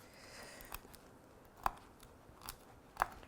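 A pepper is cut during cooking, giving a few sharp, separate crisp snips or crunches spaced about a second apart, close and quiet against a faint background hum.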